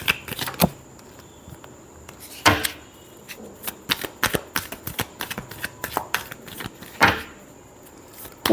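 Tarot cards are shuffled by hand in a series of crisp riffles and flutters, with a few louder bursts near the start and toward the end, close and clear with no talking.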